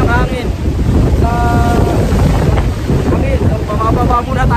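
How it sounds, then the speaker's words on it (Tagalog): Strong wind roars without a break across the microphone on the summit of Mount Udok in the Sierra Madre, loud and buffeting, with faint whistling tones rising through it. "Baka tangayin tayo ng hangin"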